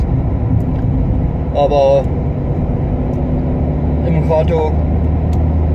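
A car's steady low cabin rumble while driving, heard from inside the moving vehicle, running continuously under a person talking throughout.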